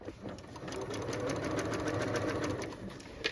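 A sewing machine stitches through an upcycled denim jacket in a fast, even run of rapid needle clatter lasting a few seconds, heard up close and continuous.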